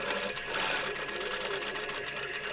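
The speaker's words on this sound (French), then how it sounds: "on va tout simplement venir faire une couture" A sewing machine stitches fabric with red thread while sewing a small Christmas treat basket, a steady close rapid mechanical whirring pulse that runs throughout.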